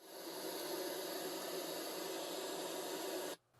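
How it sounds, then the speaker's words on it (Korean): Pink noise test signal played through a speaker, a steady broadband hiss at moderate level that holds evenly for over three seconds and then cuts off abruptly. "일단 핑크 노이즈를 한번 재생시키겠습니다"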